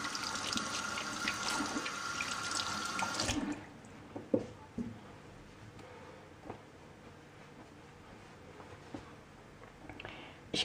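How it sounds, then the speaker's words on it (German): A tap runs into a sink as hands are washed, a close steady splash for several seconds before the flow stops, leaving quiet drips and small handling noises. "Ich muss meine Hände waschen."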